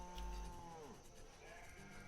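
Cattle low in the farm-building game Banished, where cattle and sheep are kept in pens, one long drawn-out moo with quieter overlapping calls behind it, faint and with no talk.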